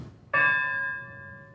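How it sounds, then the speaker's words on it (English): A single memorial bell toll at the National Museum of the Great Lakes in Toledo on November 10th, honoring the 29 Edmund Fitzgerald crewmen: one clear strike followed by a long, ringing, slowly fading hum. "the bells rang 29 times between 7:15 and 7:30 tonight, each one for a life lost on the Fitzgerald"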